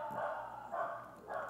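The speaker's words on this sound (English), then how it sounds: "Dogs are barking." Dogs bark in the background, about three muffled, rhythmic barks spaced across a short stretch, fairly faint and distant with no talking over them.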